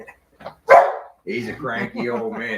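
An old, cranky dog gives one loud, close bark, followed by someone talking at length.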